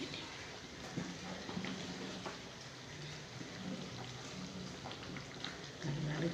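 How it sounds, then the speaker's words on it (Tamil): Steady soft bubbling and hissing of a pot of vegetable curry simmering, continuous and moderately close, with faint kitchen clatter. "குழம்பு கொதிக்க ஆரம்பிச்சிருக்கு"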